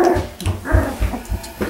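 A Double Doodle puppy whimpers and yips in a quick series of short, close, high-pitched cries, several in under two seconds.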